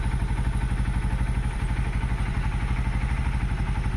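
Mustang 125 motorcycle engine running after assembly and tuning, a steady, even rapid putter close by with a mechanical clatter throughout and no talk.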